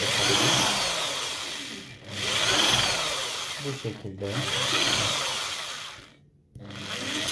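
A power drill bores holes into a dried gourd being made into a lamp, a near, loud whirring and grinding in long bursts broken by brief pauses, with a short spoken phrase in Turkish.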